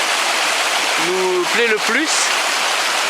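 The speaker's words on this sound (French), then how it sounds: "En tout cas on est à proximité du ruisseau" A stream flowing near a bushcraft camp in light rain, a steady broadband rush of water running throughout, with someone speaking briefly over it.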